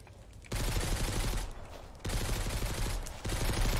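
Enemy bandits fire guns in Mist Survival, with a fainter opening giving way to loud rapid bursts of fire that stop and restart twice in quick succession, close and continuous.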